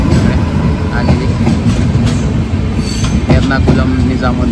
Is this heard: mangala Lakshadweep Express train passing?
yes